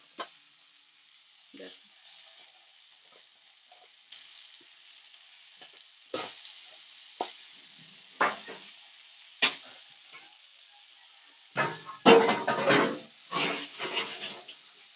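Dried fish stirred into frying potatoes in a pan, with a faint continuous sizzle under scattered scrapes and clatters of stirring that grow louder and busier toward the end; a voice speaks intermittently.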